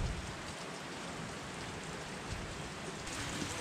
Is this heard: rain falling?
yes